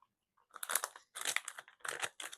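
Crunchy Korean snacks being chewed close to the mic, in three or four short bursts of crackly crunching separated by brief pauses, quiet overall and with no talk.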